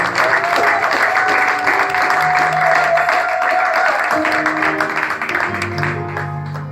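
A church congregation claps for Jesus during a Sunday worship service, a dense, steady roar of applause that fills the room, with sustained musical or sung tones running underneath.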